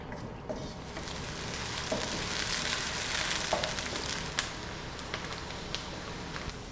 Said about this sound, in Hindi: मैं इसमें डालूँगी लगभग 1 अदद प्याज। प्याज को मैंने अच्छे तरीके से ब्राउन कर लेना है।